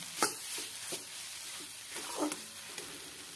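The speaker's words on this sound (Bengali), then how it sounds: "এই লেবুর রস, চাট মশলা সবজির সাথে ভালোভাবে মিশিয়ে নিচ্ছি" Vegetables mixed with lemon juice and chaat masala are stirred in a pan for veg momo filling, with soft scraping strokes and a faint sizzle recurring every half second or so, fairly quiet throughout.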